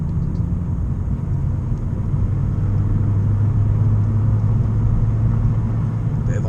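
A Vauxhall Corsa fitted with a Cobra Sport exhaust drives slowly on an icy private road, a steady low engine and exhaust rumble heard from inside the car.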